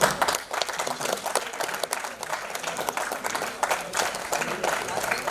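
Audience applause at a celebration event, a dense, sustained wash of clapping from a large crowd, steady and fairly loud throughout with no clear pauses.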